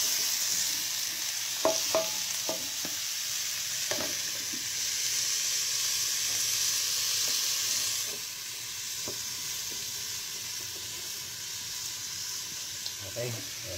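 Chili and other ingredients for ginataang papaya sizzle in a pan with a soft, steady hiss, occasional stirring clinks near the start, and a faint voice talking in the background.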